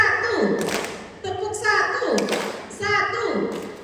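A group of parents at a parenting seminar claps the half-clap rhythm in repeated bursts, rhythmic hand claps blending with chanting voices in a lively, moderately close room.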